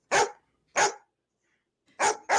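Dogs bark sharply and loudly close by, four separate barks with short silent gaps between them and the last two coming in quick succession. No speech.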